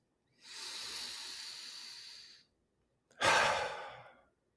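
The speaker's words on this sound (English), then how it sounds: "Take a breath" A slow, deep breath drawn in and then let out, two soft airy breathy swells separated by a short pause, close and quiet with no talking.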